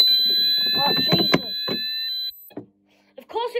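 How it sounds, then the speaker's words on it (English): A fire alarm system under test sounds with steady high-pitched electronic tones while someone talks over it, then the alarm stops and brief talking resumes. "Of course it sets the alarm off when I've reset the call point."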